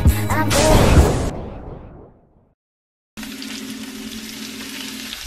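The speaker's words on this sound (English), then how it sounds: "Cooking some hot wings." Hot wings frying in oil, a loud crackling sizzle for about a second that fades to silence, then resumes as a quieter steady hiss with a low hum.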